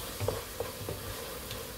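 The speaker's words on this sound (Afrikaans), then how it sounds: "Vir die sampioen is amper sag en dan voeg ek lekker 'n opgehoopte teelepeltjie knoffel by. Roer hom weer." Mushrooms and a heaped teaspoon of garlic frying in a pan while being stirred, giving a soft, steady sizzle with a few light scraping stirs, close and fairly quiet.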